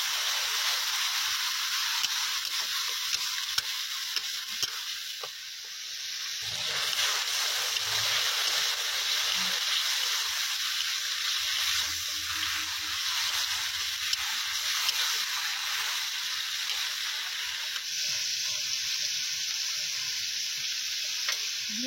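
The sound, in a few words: stirring turmeric and salt into sizzling pan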